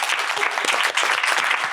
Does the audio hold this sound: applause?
yes